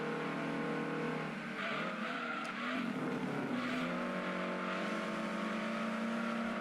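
In the Gran Turismo 2 racing game, a Renault Clio race car's engine drones steadily while tires squeal under braking and the engine note shifts, with other cars' engines audible in the mix.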